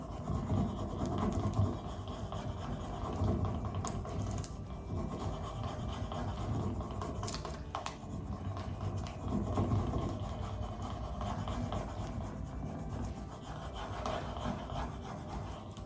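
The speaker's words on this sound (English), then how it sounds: "you just put it back on there and you keep rubbing it" A furniture decal being rubbed onto a wooden dresser, a continuous close scratchy rasping and rubbing that runs steadily without pause, moderately loud.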